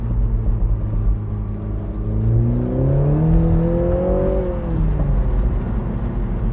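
A 2020 BMW Z4 20i rumbles loudly at close range, its exhaust note climbing in pitch as the engine revs up and then easing back down, with no voices.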